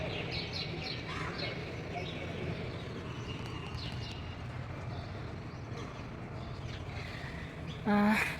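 Small sparrows chirp on a tiny apartment balcony garden, faint high twittering spread across the clip under a woman's steady speech, with one sharper, louder chirp near the end.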